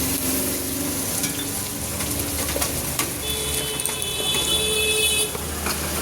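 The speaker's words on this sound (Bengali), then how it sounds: "আমি পেঁয়াজ রসুন মাথা একসঙ্গে ছেড়ে আমি এটা ভেজে নিলাম" Chopped onion and whole garlic cloves fry together in a pan with a steady, close sizzle. A faint tonal hum and a few clicks sit underneath.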